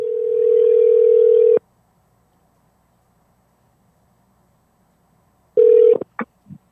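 Telephone dial tone while placing a call, a steady loud tone running about a second and a half, then silence, then a brief return of the tone followed by short clicks and bursts.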